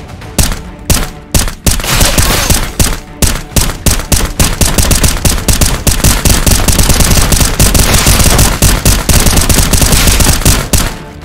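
Rapid gunfire in the John Wick VR video game, with dense bursts of loud close shots that run almost continuously with brief gaps, and no talking.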